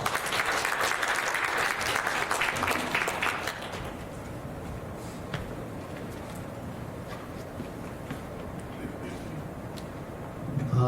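Applause welcomes a lecturer at a dental conference in Seoul. The clapping is loud and dense for about four seconds, then thins into scattered claps and room murmur for the rest of the clip.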